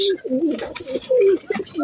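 Domestic pigeons coo close by in a repeated series of soft, throaty warbling calls, with short pauses between them.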